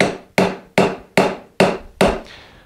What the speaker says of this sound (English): When you're chiseling, that's another area where sound can really be useful, especially when you're working with a mallet